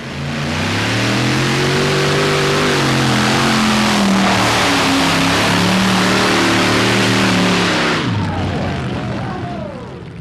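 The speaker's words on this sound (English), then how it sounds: "No doubt these big block engines have got quite a thirst for alcohol fuel then" A big block alcohol-fuelled tractor pulling engine revs hard and close, its loud roar rising and falling in pitch across several sustained pulls before cutting off sharply near the end.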